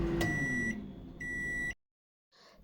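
A microwave oven sounds two steady electronic beeps after cooking a chocolate cake, each tone clear and close, followed by a short silence and faint kitchen noise.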